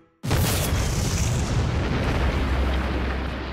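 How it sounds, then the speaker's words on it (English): A delayed blast inside a Hoover Dam construction tunnel: a sudden loud boom that starts abruptly and rolls on as a sustained, heavy rumble of debris and echo for several seconds. "there was a delayed blast"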